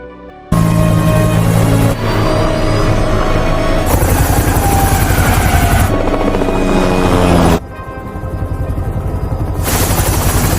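A helicopter flies in a dramatic film scene, its loud continuous rotor chop and turbine whine steady throughout, briefly dipping in level before returning full and close.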